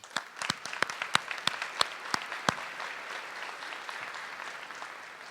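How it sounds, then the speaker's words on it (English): Educators applauding at an outstanding educator ceremony: a few sharp, close individual claps ring out early, then blend into a softer, steady wash of crowd applause that gradually fades. "take a moment and applaud yourselves for that great thing"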